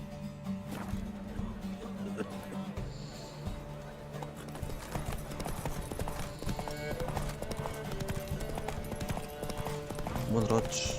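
In The Witcher 3, Geralt's horse Roach gallops in a race with a steady rapid clip-clop of hooves and an occasional whinny, set under game music and frequent talk.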